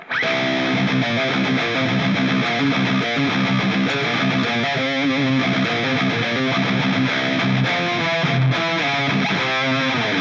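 A heavily distorted electric guitar plays a dense, driving heavy metal riff in the Phrygian dominant scale, loud and continuous throughout, with no voices.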